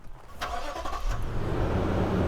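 Toyota Land Cruiser V8 petrol engine starting up, a short crank and catch building into a loud, steady idle rumble nearby.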